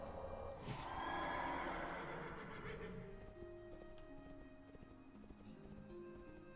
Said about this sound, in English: We'll get up on the horse.